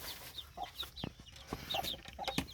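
A chicken clucks in short, soft bursts at a mountain home, several quick clucks scattered across a couple of seconds at moderate distance, with no talking over them.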